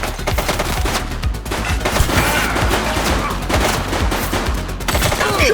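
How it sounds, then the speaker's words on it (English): Rapid gunfire in The Precinct police game, dense crackling volleys of shots close and loud, continuous throughout with little pause. "Shots fired!"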